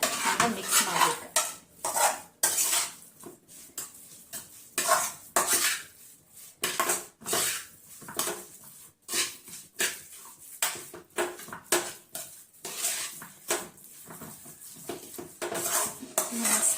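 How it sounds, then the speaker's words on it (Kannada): Aloo paratha filling being mixed by hand in a bowl, heard as a close series of irregular knocks, clatters and squelchy thumps against the dish, with brief pauses between bursts. "ಇದನ್ನ ಮಿಕ್ಸ್ ಮಾಡ್ಬೇಕು."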